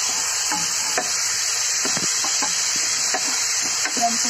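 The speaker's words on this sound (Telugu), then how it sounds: "ఇలా వెల్లుల్లిపాయలు బోలెడం వేగిన తర్వాత అందులో ఒక స్పూన్ అల్లం వెల్లుల్లి వేసి" Garlic and ginger-garlic paste fry in a kadai, a loud, steady sizzle running throughout, punctuated by regular soft scrapes and taps of a stirring spoon.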